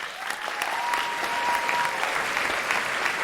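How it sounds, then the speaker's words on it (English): Studio audience applause on a live Thursday show, a continuous, fairly loud clapping from a crowd that holds steady for a few seconds without speech over it. "Typical Thursday applause."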